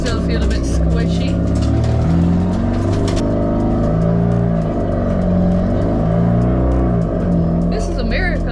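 A rebuilt race car drives off after a four-day repair, its engine droning steadily and rising and falling in pitch as it revs, up close and loud, with a voice talking over it.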